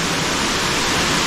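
A forest waterfall gives a dense, steady roar of falling water. The constant, loud rush is close by and has no voices over it.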